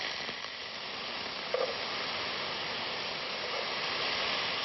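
Steady, soft sizzling of diced potatoes frying on minced meat in a hot pan, a continuous crackling hiss with a brief small clatter partway through.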